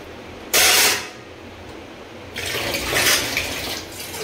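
Water gushes from a tap into a pot for heating in a home kitchen: a short loud burst, a pause, then a longer, steadier stream.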